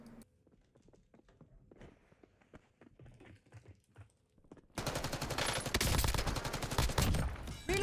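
Nail gun in the Call of Duty Warzone video game, heard as scattered quiet taps and footsteps that give way to a sudden loud, dense burst of rapid game gunfire.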